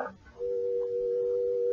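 A telephone line tone comes on as the receiver is reconnected, a steady unbroken hum that starts abruptly after a short rustle and holds clear and level with no talk.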